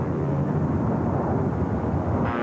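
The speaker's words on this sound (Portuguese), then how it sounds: "atravessavam a Cordilheira dos Andes, num avião da Força Aérea Uruguaia" A Uruguayan Air Force airplane flies over the Andes, its engine making a continuous, dense, loud roar that holds steady throughout with no voices.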